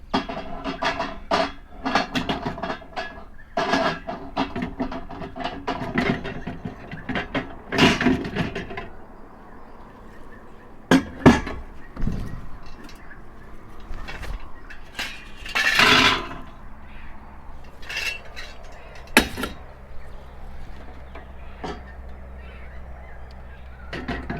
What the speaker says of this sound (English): we're going to load her up with some more